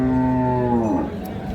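A cow lets out a single deep, drawn-out moo close by, trailing off after about a second.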